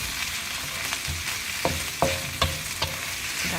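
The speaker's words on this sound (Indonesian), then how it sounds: "kita aduk lagi, kita tumis lagi sampai merata ya teman-teman ya" Black squid stir-fried in oil in a pan, a steady sizzle broken by several sharp scrapes and clacks of a spatula stirring, close and moderately loud.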